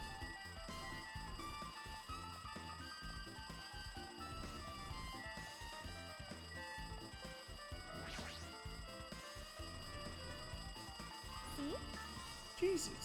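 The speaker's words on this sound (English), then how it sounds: "It looks like that phone is ringing." In the Danganronpa 2 video game, a telephone rings continuously like a mechanical alarm, its steady shrill tone running for about thirteen seconds over other busy game sounds.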